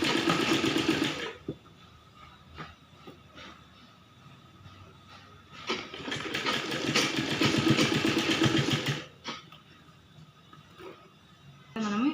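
A sewing machine stitches thin piping along the edge of a frilled baby frock in two loud steady runs, separated by a quieter gap with a few soft clicks.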